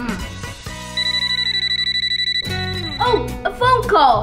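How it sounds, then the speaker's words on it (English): A phone rings with a steady pulsing electronic tone for about a second and a half, loud and close, followed by cartoonish voices and a bright chiming sound effect. "Oh, a phone call."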